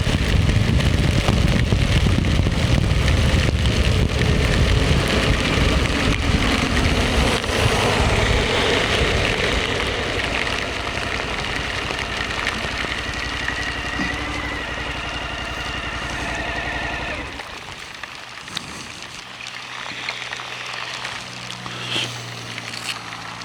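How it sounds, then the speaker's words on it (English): Heavy rain pours onto a motorcycle rider who has pulled over and stopped, a dense hiss of drops that gradually eases off. Near the end it thins into scattered patters and lighter dripping. "sitting still and getting rained on is preferable to the driving rain"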